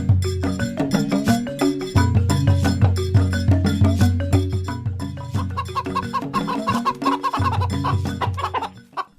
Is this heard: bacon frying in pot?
no